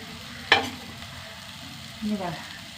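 Tomatoes with turmeric and mild chili powder sizzle and stir in a pan. A soft, steady fry hiss runs throughout, broken by two stirring scrapes near the start and end.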